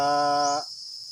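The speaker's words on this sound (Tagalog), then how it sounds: "Yung ating mga alagang kambing." Pet goat on a farm in Oriental Mindoro giving one short, loud bleat that cuts off abruptly, followed by near silence.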